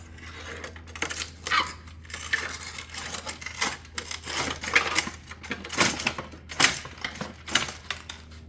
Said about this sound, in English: Take it to the cutter.